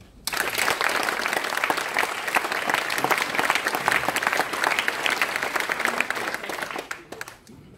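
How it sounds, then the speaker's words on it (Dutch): An audience at Gebr. de Nobel breaks into dense, sustained applause that swells quickly, holds steady for several seconds, then fades out near the end. "Ik vind dat een applaus waard."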